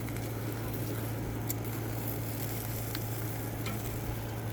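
Taco turkey sausages sizzle in a hot pan, a steady close crackle and hiss with occasional sharper pops and a low hum underneath, with no talking.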